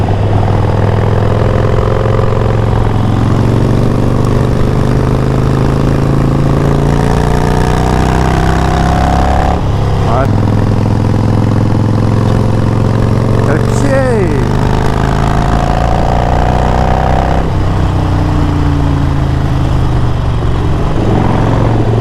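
A motorcycle engine idles steadily, a low continuous throb that holds throughout, with someone talking over it at close range.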